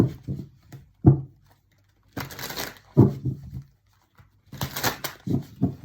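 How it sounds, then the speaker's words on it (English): A new deck of playing cards being shuffled by hand, several crisp riffling bursts separated by short pauses, close and fairly quiet. "I'm just going to give it a couple good shuffles"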